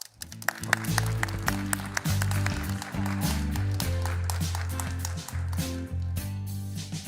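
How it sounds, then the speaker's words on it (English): Applause greets a moderator walking onto the stage at a conference panel event. The clapping is dense and continuous under loud, booming stage music and stays steady throughout. "Please greet him with a big round of applause."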